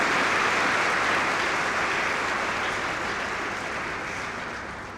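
Congregation applauding at an Easter Sunday church service: dense, sustained clapping from a large crowd, loud at first and slowly tapering over a few seconds, with no voices over it.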